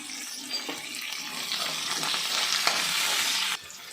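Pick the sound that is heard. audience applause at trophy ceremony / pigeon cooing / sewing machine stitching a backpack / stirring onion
stirring onion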